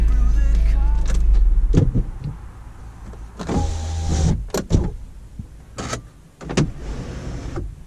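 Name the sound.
Subaru car power windows closing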